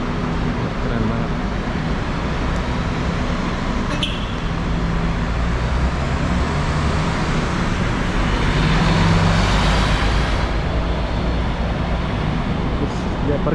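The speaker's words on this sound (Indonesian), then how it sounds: "Oke, kita akan lihat bus ini jalannya." A large express bus pulls out of the Alor Setar bus terminal in Kedah, Malaysia, its deep engine rumble mixed with surrounding traffic and swelling louder partway through, with faint voices in the background.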